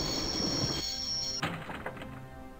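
A train in the game Broken Sword – Shadow of the Templars, rolling with a high steady metallic whine that cuts off into a heavy thunk, followed by quieter clanks and rattles.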